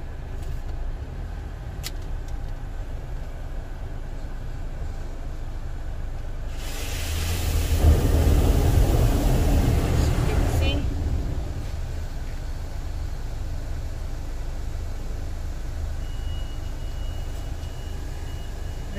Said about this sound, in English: The good thing here in a car wash, they really clean in and out. It's a laser one.